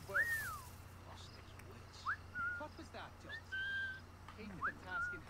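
Short rising whistles from the pirate game Assassin's Creed IV: Black Flag, several brief tones spread over a few seconds amid game ambience and background voices.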